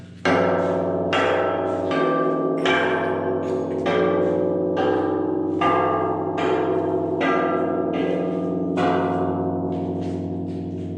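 A steel chassis tube for a chassis table is struck repeatedly, about a dozen sharp metallic hits in a steady rhythm, each ringing out with a long bell-like tone.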